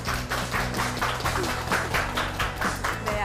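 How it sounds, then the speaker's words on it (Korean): Studio audience applause welcoming a speaker onto a lecture-show stage, a fairly soft run of clapping with distinct rhythmic claps and some background music underneath throughout. "선택의 기술 이은영 대표님을 큰 박수로 자리에 모셔보겠습니다"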